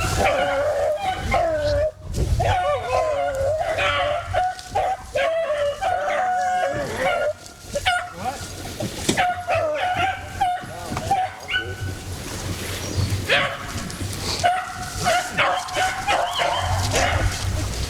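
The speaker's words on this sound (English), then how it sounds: "as soon as we let the dogs loose, we felt like we had made the right decision in making our move" Beagle hunting dogs bark, yip and bay continuously in the woods, several dogs overlapping in a loud, busy chorus with short whimpers mixed in.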